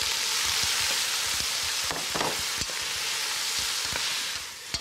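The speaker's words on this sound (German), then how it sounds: "Dann kocht er eine ganz normale Suppe mit frischen Zutaten." Fresh ingredients sizzle steadily as they fry in a pan for a plain homemade soup, a close, continuous crackle with small pops and a few stirring scrapes midway.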